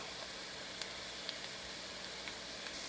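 Onions sizzle softly in a pan for meat samosas, with bay leaves added, giving a steady, quiet hiss and a few faint pops and crackles.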